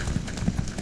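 Horse hooves clip-clopping at a steady trot in Elder Scrolls Online, a quick run of close, fairly loud hoofbeats over a low ambient background.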